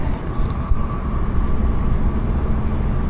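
A steady low rumble of a moving train in Seoul fills the clip, continuous and fairly loud, with faint rattles on top and no talking.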